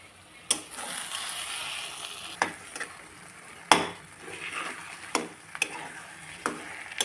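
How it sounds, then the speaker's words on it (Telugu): Egg bhurji being stirred in a pan over medium flame, with a soft background sizzle and a few sharp spatula clicks and scrapes spaced a second or so apart, close and quiet. "మీడియం ఫ్లేమ్లో పెట్టి కలుపుకోవాలండి"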